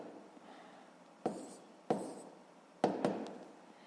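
Pen or pencil moving by hand on paper while working a sixth-grade maths multiplication exercise, a faint scratchy rubbing broken by three sharper taps or strokes, close and quiet with no talk.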